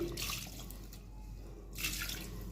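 Water is poured into mutton in a pan, splashing and trickling in two short bursts with a quieter dripping pause between them, close by.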